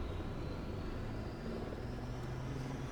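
A helicopter in the Roblox video game gives a continuous, even engine drone, steady and fairly loud with no pauses.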